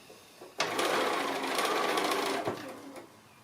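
A sewing machine stitches a quarter-inch seam on a cushion in one steady, close whirring run of about two seconds. A short start and stop sit at either end.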